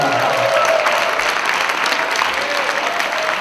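A crowd claps steadily for several seconds, a dense wash of applause filling the room with no pause.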